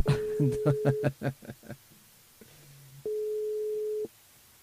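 Phone line tones while calling Héloïse on a radio switchboard: a rapid series of short beeps, then a low brief tone and a steady one-second tone, with faint voices early.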